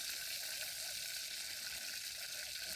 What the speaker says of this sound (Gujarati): આ પહેલાં લસણ નાખી દઈએ અંદર.